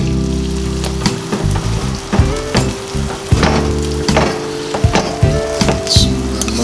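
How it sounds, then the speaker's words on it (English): Beans being mashed with a hand masher into spreadable refried beans, giving repeated squelching, pressing thumps and wet sizzling clicks at an irregular rhythm, close and fairly loud with no talk. "we're going to take our masher and we're going to mash the beans"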